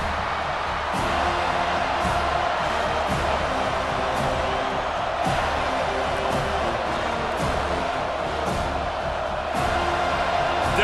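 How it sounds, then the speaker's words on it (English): Stadium crowd in EA College Football 25, Colorado vs. Florida State, roaring steadily for the defense on third down, a dense continuous din with occasional sharper thuds. "Decibels rising as the crowd gets behind this defense on 3rd down."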